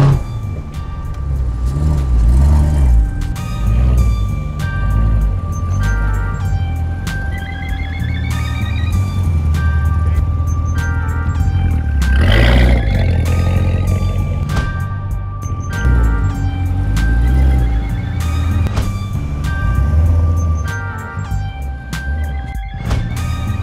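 A car with a manual gearbox revs in uneven bursts as it is driven up onto a pickup truck's trailer. The engine is loud and close, with brief clicks and tonal whines over it and no speech.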